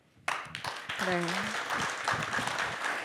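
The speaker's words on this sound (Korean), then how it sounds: "박수 고맙습니다." Audience applause at a Korean talk concert, a burst of clapping that starts suddenly and carries on steadily, with a voice speaking briefly over it early on.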